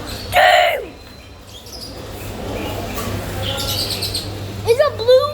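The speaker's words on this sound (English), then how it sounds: "It's a blue parrot." Blue parrot at a bird market letting out a loud harsh squawk, then a background of crowded chirping and calls, with another sharp burst of squawks near the end and some nearby voices.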